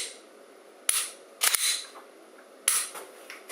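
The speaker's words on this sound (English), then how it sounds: "Okay, that's one way to dry fire." SIRT training pistol dry firing, giving a few sharp, close trigger clicks spaced irregularly with quiet gaps between.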